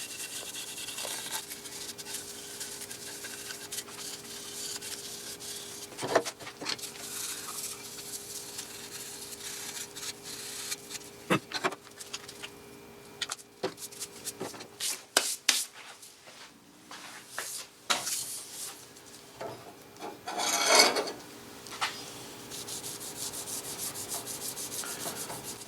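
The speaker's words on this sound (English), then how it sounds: "going to just use the steel wool to rub this down, and this won't really make a lot of sawdust" Steel wool rubbed over a wooden shotgun stock from a Remington 31 12-gauge under restoration, a continuous scratchy rasping with irregular strokes and occasional sharper scrapes and knocks, close and moderately loud.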